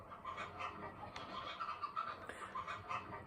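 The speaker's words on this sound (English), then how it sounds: "Here's a chicken." A chicken clucks in the Texas Chain Saw Massacre video game, a string of short, clipped clucks at moderate distance, with no talk over them.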